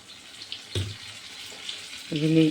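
Vinegar poured into a pan of melted sugar makes a brief liquid splash and hiss, followed by a short stretch of quiet; a voice speaks near the end.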